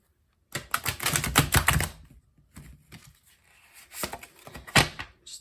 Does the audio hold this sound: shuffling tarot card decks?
yes